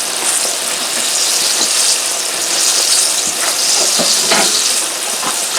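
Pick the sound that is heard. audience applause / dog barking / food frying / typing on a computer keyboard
food frying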